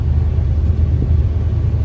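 A 2000 Thunder Jet boat engine idles in gear with a steady, heavy low rumble, close and constant with no talking over it.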